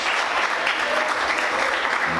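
A church congregation breaks into sustained applause during a sermon, a dense, even roar of many clapping hands filling the space without pause.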